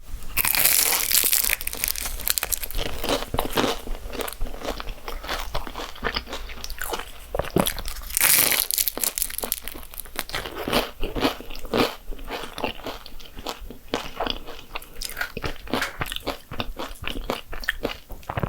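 Crispy Portuguese egg tart with a flaky pastry shell being bitten and chewed up close, with repeated crackly crunches and crinkling pastry sounds running on for nearly twenty seconds and no talk.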